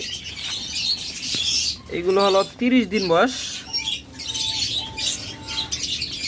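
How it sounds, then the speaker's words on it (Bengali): Thirty-day-old king quails for sale make short chirps and squawks, with a brief run of thin high tones, while someone speaks over them in a noisy, lively setting. "চমৎকার কোয়েল পাখিগুলো এরপর এখানে আছে"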